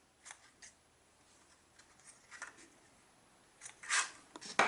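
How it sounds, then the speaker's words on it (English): Scissors snip excess paper off a handmade watercolor card, giving a series of light, crisp cuts at irregular intervals and ending in a few louder, closer snips. "And snip off the excess."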